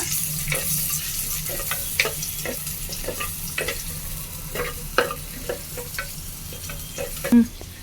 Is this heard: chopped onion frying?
yes